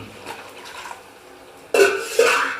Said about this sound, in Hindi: अब इसमें मैं पानी शामिल करूँगी।